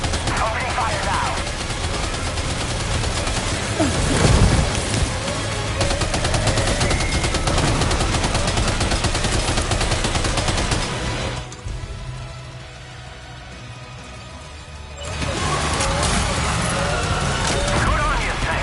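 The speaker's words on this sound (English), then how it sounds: "Opening fire now." Sustained gunfire in the video game Death Stranding 2, dense rapid shots and bursts of machine-gun fire that drop away briefly near the end before resuming, loud and close, mixed with game effects.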